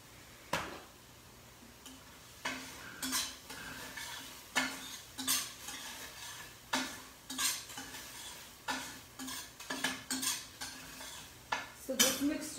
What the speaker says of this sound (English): Pretty much, you just stir and you mix everything, and this is my mixture.